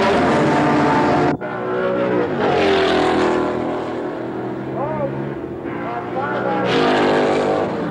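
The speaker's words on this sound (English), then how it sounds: "Hulme leads Revson in the opening laps." Racing cars from a 1972 motor race roar past in bursts, their engine notes rising and falling as they sweep by, while a narrator speaks over the noise.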